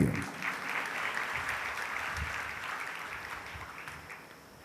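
Audience applause in a church during a sermon, a dense wash of many hands clapping that holds steady and slowly fades toward the end.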